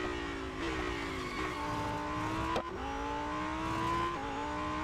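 A Lamborghini Huracan STO in Real Racing 3 revs hard through gear shifts, its engine note climbing and dropping repeatedly with a brief sharp skid mid-run, loud and alone.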